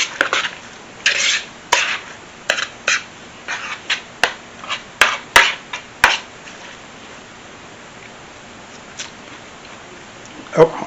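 Pico de gallo being mixed in a bowl with a utensil, a series of close clinks and scrapes in a quick run, then a quieter stretch with a couple of final knocks, while a person talks.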